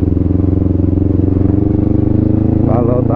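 Kawasaki Ninja 250 FI motorcycle ridden at night out of town, its engine a steady close drone with rhythmic pulsing throughout, rising slightly near the end.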